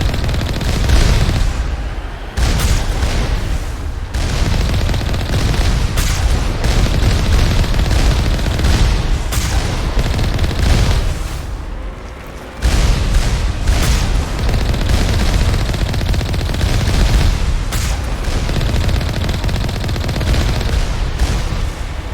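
Turrets fire in Mass Effect 1, a loud, continuous stream of shots and blasts with only brief lulls.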